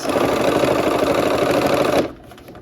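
A sewing machine runs the last seam of a snowflake quilt block, a dense, rapid mechanical chatter lasting about two seconds before it stops abruptly into quiet.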